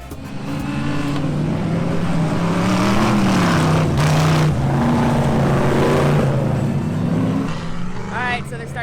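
Off-road buggies roar through a warm-up lap of a 25-lap race, flying over rocks, a steady loud blend of revving engines that swell and fade with passing cars, heard from trackside.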